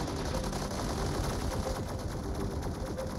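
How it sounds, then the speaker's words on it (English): A minigun firing in a video game, one dense, unbroken buzzing roar of rapid shots, loud and close throughout. "Stinking minigun."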